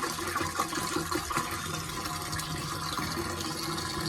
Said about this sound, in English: Looks just like water being poured out, doesn't it? But there's sap in there.